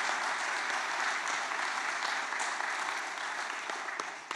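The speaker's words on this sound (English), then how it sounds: "Give her a big round of applause," A crowd at a political debate event gives a sustained round of applause for the evening's moderator, dense and even clapping that fades slightly toward the end.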